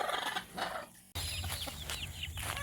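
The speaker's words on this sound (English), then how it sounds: "Those are the 2 paint silky chicks." Paint silkie and silver-laced Wyandotte chicks peep and cheep softly, with clucking from nearby chickens, in a short, busy outdoor coop scene.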